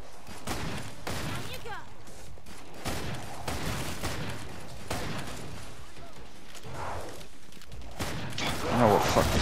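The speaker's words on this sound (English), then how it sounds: "this varmint rifle" Varmint rifle gunfire in Killing Floor 2 co-op play, repeated loud shots and game combat noise running throughout under frequent talk, with a sharper burst near the end.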